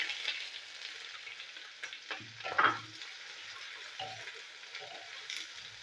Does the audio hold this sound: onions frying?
yes